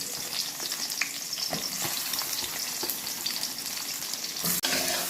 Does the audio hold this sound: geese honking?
no